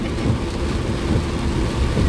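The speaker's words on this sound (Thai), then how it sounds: "แต่ตอนนี้คือ ฝนตกหนักมาก นะ" Heavy rain in a storm heard from inside a moving car, a dense, loud rumbling wash of rain and road noise that swells and dips slightly.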